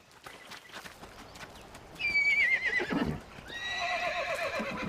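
A horse lets out a loud, shrill neigh, followed by a second whinny, over the soft thud of hooves moving on the ground.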